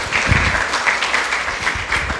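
Loud, steady applause from an audience at a Korean book talk event after a stage performance, dense clapping filling the whole moment with no voices.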